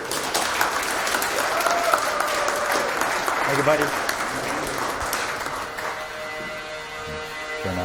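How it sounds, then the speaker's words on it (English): Audience applause for a keynote speaker at a paranormal conference, steady dense clapping from a crowd that fades slightly toward the end, with someone speaking briefly over it. "please give a warm round of applause for our keynote speaker"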